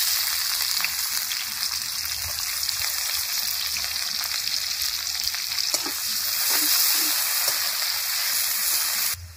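Chopped onions fry in oil in a kadai, giving a steady, dense, close sizzle with a few faint scrapes, continuous throughout and without talk.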